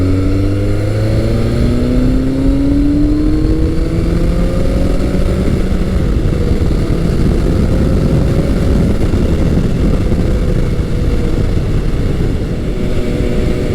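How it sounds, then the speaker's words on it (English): A 1986–1988 Yamaha FJ1200 with a 1200cc 16-valve engine, revving up steadily with a rising drone, close and continuous, with no voices. "This bike has that fearsome 1200cc motor. It's a 16-valve motor, and it just has power all over the place."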